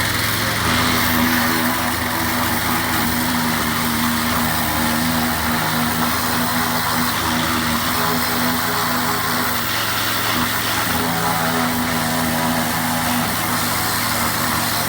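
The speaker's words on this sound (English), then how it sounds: "Power washing noise." A pressure washer running steadily and loudly throughout while power washing near a car, a continuous engine drone with a buzzing hum and broadband hiss, no voices.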